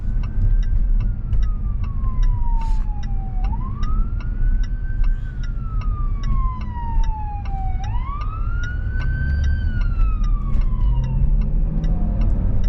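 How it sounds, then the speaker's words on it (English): An ambulance siren wails in rising and falling sweeps over steady traffic rumble, loud and close as it passes. "We're gonna let this ambulance go past real quick."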